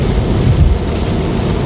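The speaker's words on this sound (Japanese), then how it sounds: "非常にこのね超絶大雨ですよ" Torrential rain pounds a Tesla Model 3 Long Range on 19-inch wheels during a drive on Autopilot, a dense, steady, loud roar of water on glass and roof with low road rumble and no talking.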